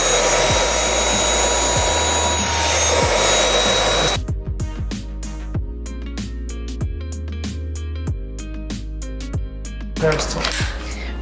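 A Dyson Animal 8 cordless vacuum with its combination attachment runs loud and steady for about four seconds while picking up cat hair, then cuts off; quieter handling sounds and voices follow.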